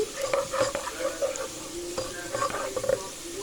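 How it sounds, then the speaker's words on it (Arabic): Onion frying in a pan and stirred with a utensil while cooking Egyptian country-style spinach, a steady close sizzle with repeated scraping stirs across the pan, with no talking. "عليها البصلة اهو، بس مش عايزاها حمرا قوي"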